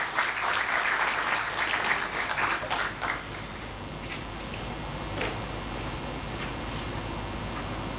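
Applause at an HR dialogue panel event in a management institute auditorium welcomes a panelist. It is loud at first and then thins to scattered claps over a quieter room tone, with no talking.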